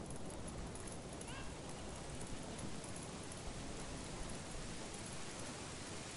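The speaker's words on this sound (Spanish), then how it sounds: "Empieza a llover." Rain starting near the well in the Zelda: Ocarina of Time video game, heard as a dense, loud, unbroken wash of rain noise that holds steady from start to finish.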